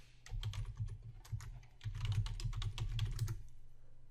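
Rapid keyboard typing on a computer while a layer is renamed in photo-editing software, with bursts of close keystrokes, a brief pause partway through, then a denser run before it stops.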